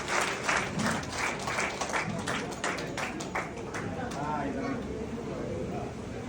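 Applause from a crowd at a Kannamthodi family welfare association reunion, steady clapping filling the first few seconds and then thinning out, with speech underneath.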